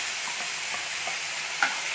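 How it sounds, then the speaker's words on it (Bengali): Ginger paste fries in a pan while being stirred, giving a dense, even hiss of sizzling throughout with faint scraping and one small sharp clink near the end. "দেখুন আদা বাটাটাকে আমি ভালো করে ভেজে নিচ্ছি"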